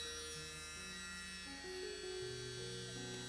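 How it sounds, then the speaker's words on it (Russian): Dremel rotary tool running on its second speed setting, a faint, steady electric whine with a shifting high hum and no talk over it. "Берем дремель. Включаем его на второй режим."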